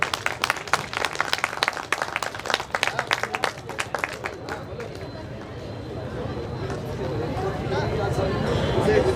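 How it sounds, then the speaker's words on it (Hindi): Audience clapping at a community festival celebration, brisk applause for the first few seconds that thins out into a murmuring crowd and background babble. "जोरदार तालियां सतीश भाई के लिए"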